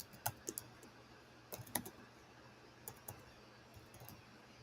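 Contact information being typed on a computer keyboard: quiet, close clusters of key clicks come in short bursts separated by pauses, with no voice over them.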